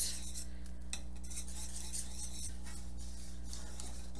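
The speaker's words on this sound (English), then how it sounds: "We're going to whisk that together until the chocolate and the butter melt." A whisk stirs chocolate and butter together in a pan on the stove, giving a steady, close scraping swish with faint rhythmic strokes over a constant low hum.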